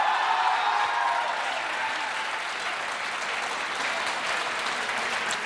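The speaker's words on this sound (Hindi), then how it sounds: "बजाइए ताली एक बार अपने लिए।" Studio audience at a televised Hindi political debate show claps together, a dense even rain of hands that holds steady throughout with no voices over it.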